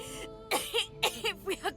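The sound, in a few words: woman coughing and wheezing in video game Divinity Original Sin 2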